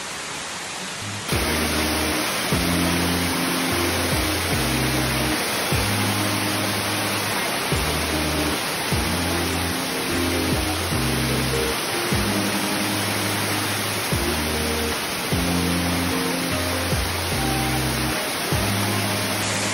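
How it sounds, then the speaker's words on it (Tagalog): Kaparkan Falls in Abra roars as a steady, loud broadband rush of falling water that stays constant throughout, with music playing underneath. "So, let's enjoy the falls."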